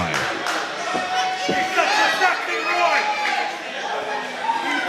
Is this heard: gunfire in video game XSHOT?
no